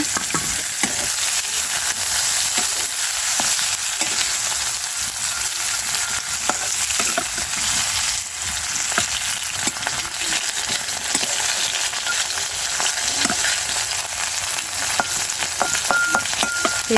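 Onion fries in a pan in a village kitchen, giving a loud, dense, unbroken sizzle with scattered stirring clicks and scrapes throughout.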